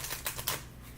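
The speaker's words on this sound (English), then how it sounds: "One more good shuffle." Oracle cards being shuffled by hand at a table, a few quick riffling bursts of papery flutter close by, then a softer fading rustle, with no talking.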